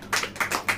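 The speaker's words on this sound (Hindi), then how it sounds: "ताली बजाइए।" A church congregation clapping during a sermon: four rhythmic, evenly spaced claps, moderately loud and close, with no speech over them.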